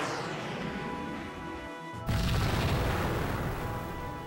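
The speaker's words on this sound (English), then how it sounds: "That torpedo just detonated back there." Torpedo detonation in an audio drama, a sudden heavy boom that cuts in over a steady droning background and then rolls on as a loud, sustained rumble.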